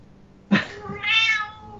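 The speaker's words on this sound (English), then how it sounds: "And now my cat is shouting in the background." A house cat lets out a loud, drawn-out meow in the room, a single sharp cry rising into a sustained wail close by.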